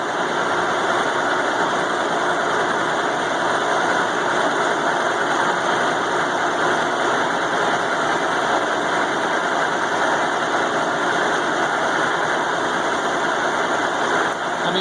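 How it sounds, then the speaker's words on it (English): A 2-inch 4-flute end mill cuts slowly and steadily into a homemade 45-ton log splitter blade. It makes a loud, constant machining drone with a faint high squeal that holds for the whole stretch. "I'm using a 2-inch 4-flute end mill."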